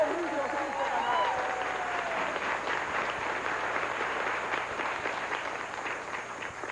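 A studio crowd gives sustained applause for synchronized swimmer Sylvie Fréchette, a dense, even wash of clapping that stays strong throughout while a voice speaks over the start.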